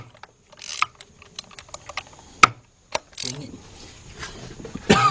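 Ratcheting and wrench clicks from taking a spark plug out of a 2010 BMW 528i engine with a misfire on cylinder 5, heard close as short bursts of clicks and metallic taps with pauses in between.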